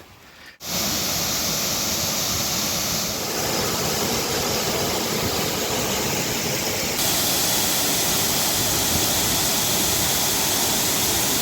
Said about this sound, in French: Regardez cette magnifique cascade.